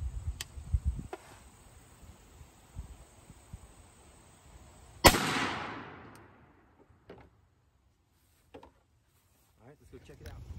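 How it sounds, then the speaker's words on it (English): A single loud, close shotgun blast of Remington 9-pellet double-aught buckshot fired at 40 yards, with a sharp crack and a decaying outdoor echo, after quieter handling noises and insect chirps. "So we'll shoot the 9 pellet, and then we'll switch over. Remington 9 pellet double aught,"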